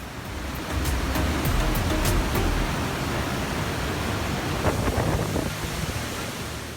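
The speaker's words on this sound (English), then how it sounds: "listening to the sound of falling water" The Iguaçu waterfalls in Brazil roar with falling water, a dense, continuous rushing wash that is loud and unbroken, with a few faint clicks near the start and no voices.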